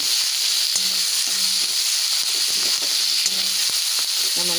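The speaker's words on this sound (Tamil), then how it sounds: "இப்போ வெங்காயம் கரப்பில் கொத்தமல்லி சேர்த்து நல்லா வதக்கிக்கணும்" Green beans sautéing with onion and coriander in a hot pan give a steady, close sizzle and hiss throughout, with occasional soft clicks from stirring and no talking.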